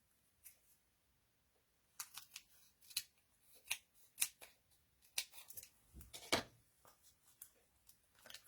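Scissors snipping card stock into a skeleton shape for a Halloween card, a series of crisp, close snips in quick irregular bursts after a brief quiet start.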